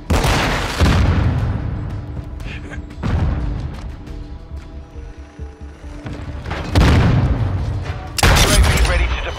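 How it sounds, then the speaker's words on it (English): Flash grenade detonations in Modern Warfare 2, several loud booming bursts spaced a few seconds apart over continuous gunfire and game noise, with a voice shouting a callout. "flash grenade!"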